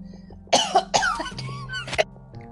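A man coughs several times in quick succession, close and fairly loud, with a low background hum.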